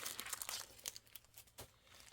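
Glossy holographic paper sheets crinkle and rustle as they are handled, a close run of crisp crackles and small crunches with no one speaking.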